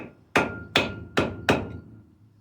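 Four evenly spaced, ringing hammer strikes on El Camino brake parts, each hit sharp and close with a short metallic decay, heard alone.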